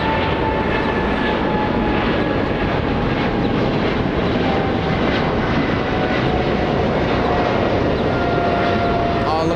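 A China Southern Cargo Boeing 777 freighter bound for Shanghai passes at Los Angeles International Airport with a loud, steady engine roar and a high whine that persists throughout. Voices may sound faintly beneath it.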